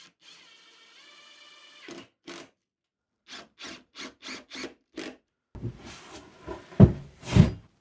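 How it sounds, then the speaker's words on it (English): Short bursts of sanding against a wooden bookcase frame, a handful of separate rubbing, scraping strokes with pauses between, fairly close and growing louder toward the end. "I'm just going to give the frame a little quick rub over to get rid of the last few marks."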